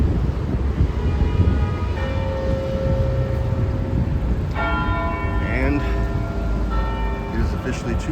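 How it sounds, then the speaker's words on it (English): A church bell rings over steady city street noise near a roadside construction zone, its tone rising out of the traffic hum partway through and followed by brighter struck peals toward the end. "Seems like an odd time to ring a bell"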